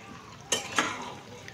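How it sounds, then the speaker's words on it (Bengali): Food being stirred in a cooking pot: two quick scraping clatters of a utensil against the pot close together, followed by a softer rustle, fairly quiet and with no voices. "আবার ভালো করে নাড়িয়ে দিচ্ছি"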